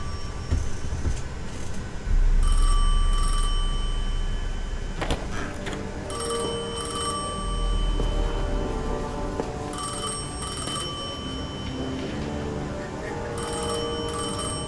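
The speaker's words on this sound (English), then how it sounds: "I felt the ringing more than I heard it." A telephone rings in a sci-fi shooter game, repeated bell-like rings in bursts over a low, rumbling ambient drone, with a voice briefly speaking.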